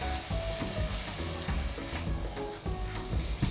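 Egg foo yung mix with hot food fries in a pan with ghee, giving a close, steady sizzle broken by scraping and stirring clatter from a utensil.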